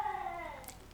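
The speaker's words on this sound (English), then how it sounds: "If you guys can hear my cat outside yowling" A male cat yowls outside the room in one drawn-out, wavering cry that falls slightly in pitch, heard faintly through a wall or door.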